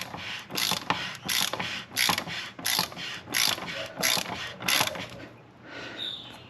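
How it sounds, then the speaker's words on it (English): Ratchet socket wrench clicking in quick repeated bursts while snugging the oil filter cap on a 2023 Jeep Grand Cherokee Limited with the 3.6 Pentastar V6, close and loud with brief pauses between strokes. "that's where it gets a little bit tighter, so you'll have to get your socket back out"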